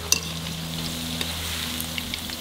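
Coated chilli chicken pieces frying in hot oil give a steady, close sizzle with fine crackling pops throughout, with no talking over it.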